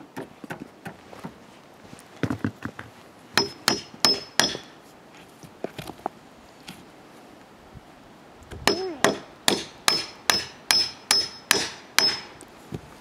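A child hammers nails while a family frames a house floor on a simple foundation, striking in irregular bursts at first and then in a steady run of sharp, close metallic blows.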